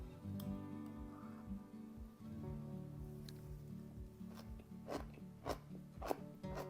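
Quiet, close crunching bites and chewing of crisp homemade fermented sauerkraut, with soft repeated crackles that grow sharper toward the end, no talking.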